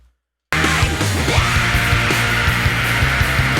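A loud, sustained scream in a metal song recording rides over dense distorted guitars and pounding drums, the full mix kicking in abruptly after a short silence and staying loud to the end.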